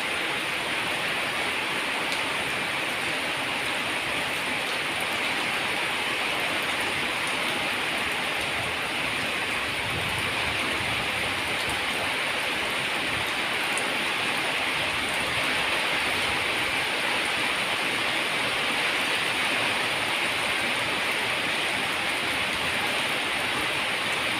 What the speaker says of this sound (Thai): นั่งดูฝนตก